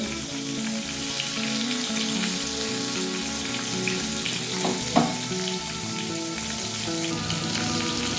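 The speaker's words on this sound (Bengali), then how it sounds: "এই মাছটা কিন্তু খুব বেশি ভাজার দরকার নেই এটা হালকা করে ভেজে নেব" Singhi fish fries lightly in oil in a pan, a steady soft sizzle throughout with a brief clink of stirring midway.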